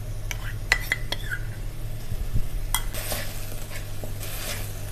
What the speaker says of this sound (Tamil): நல்லெண்ணெய் ஊற்றி நம்ம அரைச்சி வச்சுருக்க வெங்காயத்தை இதில் போடலாம்